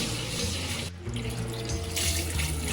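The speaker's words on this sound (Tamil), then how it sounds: "கொஞ்சம் தண்ணி ஊற்றிட்டு இப்படி கை போட்டு இப்படி பண்ணணும்" Dried fish is rubbed and washed by hand in water, making a continuous close sloshing and splashing with a short dip in the middle, heard alone.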